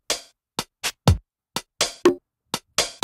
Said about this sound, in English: The foundation of the kit is made up of that 707 that I showed you before